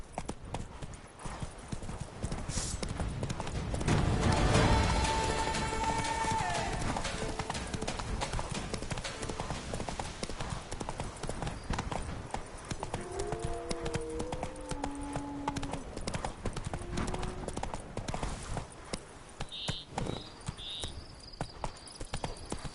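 Hooves of the horse Roach clip-clop in a steady galloping rhythm in the Witcher 3 game, with a brief whinny and a soft synthetic score underneath.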